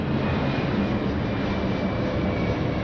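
A jet airliner takes off from nearby Lindbergh Field beside a girls' varsity soccer match, a loud, steady broadband roar that holds evenly the whole time with no break.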